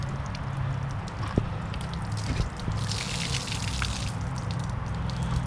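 Water trickles and drips steadily out of the full debris basket of a Polaris 9550 pool vacuum, a continuous close splashing flow with a few louder drips.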